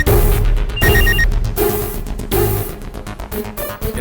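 A telephone rings in a Tamil television drama, repeated bursts of electronic ringing over a loud, dense music backdrop, sounding in short rhythmic pulses.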